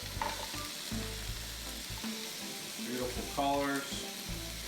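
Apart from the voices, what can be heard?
garlic, ginger and vegetables sautéing in a pan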